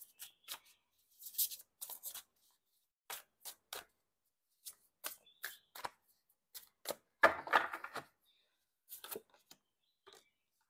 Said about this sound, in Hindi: आपके सामने मैंने शफल किया था